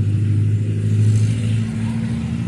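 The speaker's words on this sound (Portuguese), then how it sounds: "O novo Onix." A new Chevrolet Onix car drives past on a street, a steady, fairly close low engine hum with a slight rise in revs, heard on its own without talking.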